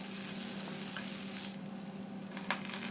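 Dried red chilies fry with softened onions in a pan, a steady close sizzle with a faint stir or two and a brief crackle near the end, no voices.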